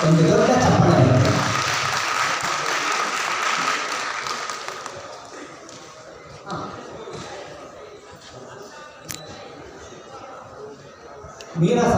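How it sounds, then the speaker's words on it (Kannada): Applause from an audience at a world-record folk dance performance event, a dense wash of clapping that is loudest at the start and gradually thins, heard alongside crowd murmur and an announcer's voice. "ನಿಮ್ಮೆಲ್ಲರ ಚಪ್ಪಾಳೆ ಜೊತೆಗೆ ಗುರು ಬಸವರಾಜ್ ಸರ್ ಮತ್ತು ಅವರ ಸ್ನೇಹಿತರಿಗೆ ಒಂದು ದೊಡ್ಡ ಚಪ್ಪಾಳೆ ಇದೆ"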